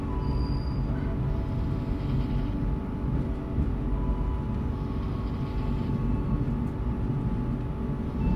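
Steady, loud rumble of the KA Dharmawangsa Executive train running on rails, heard from inside the carriage with constant low-frequency roar and faint high squeals, unbroken throughout.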